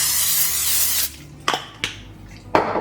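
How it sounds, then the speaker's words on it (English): Cooking spray hisses steadily from a can into a 9x9 baking dish for about a second, close and fairly loud, followed by a few quieter clicks and taps. "spray it with the cooking spray"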